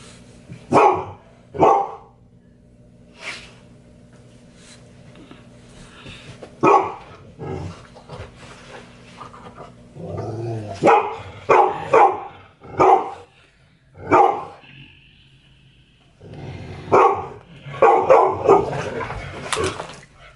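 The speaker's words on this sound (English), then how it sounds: "you're making everybody's dogs bark" Several dogs bark indoors, with loud, close woofs and yips coming in scattered bursts and clusters, separated by quieter gaps that carry a faint whimper.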